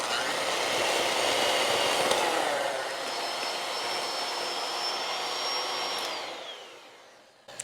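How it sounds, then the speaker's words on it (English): An electric mixer creaming unsalted butter with unbleached sugar, a steady, close whirring drone that holds for several seconds and then winds down as the mixer is switched off. "I'm going to use my mixer and I'm going to cream this until it's light and fluffy."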